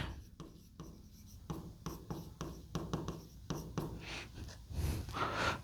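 Marker or chalk scratching out short strokes on a classroom board, close and moderately loud, with a steady run of brief writing strokes and pauses and no speech.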